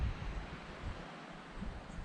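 Wind gusting across an exposed mountain trail on the way to Flat Mountain Pond, a steady low rumble buffeting the microphone and lingering throughout, with no one talking.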